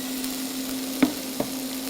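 Onions and garlic frying in olive oil, a soft steady sizzle with a faint hum and two light clicks of a utensil, close and fairly quiet.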